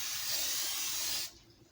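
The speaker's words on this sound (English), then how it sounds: "Just spraying it down a little bit." A steady hiss of cooking spray from an aerosol can onto a pie pan, lasting just over a second before cutting off, close and fairly loud.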